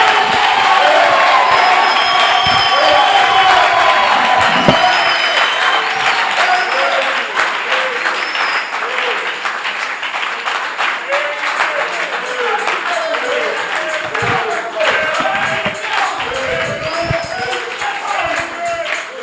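A church congregation breaks into loud, sustained applause with cheers and whoops, a dense crowd wash that thins slightly toward the end, with voices shouting under the clapping.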